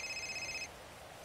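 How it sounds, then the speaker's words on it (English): An in-game phone rings during a GTA roleplay session, a bright electronic warble repeating steadily for about half a second and then cutting off, leaving only faint room hiss. "I'm getting a phone call here."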